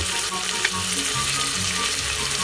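Onion, carrot and celery fry briskly in a pan as the base for a ragù, a dense, loud, continuous sizzle close up with a faint tonal hum beneath and no talking.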